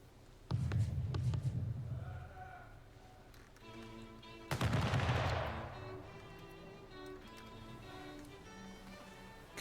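Two deep, booming ship cannon blasts in the video game Anno 1800, one near the start and another about four seconds later, each with a long rumbling tail over a steady droning game soundtrack.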